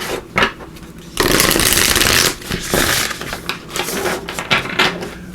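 Tarot or oracle cards riffle and slide together in several quick bursts of papery shuffling, close and crisp, with short pauses between handfuls and no voice.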